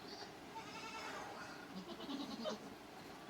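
Goats bleating on a farm during rainy-day chores, a few distinct mid-distance bleats over a steady background wash of rain or ambient noise, no talking.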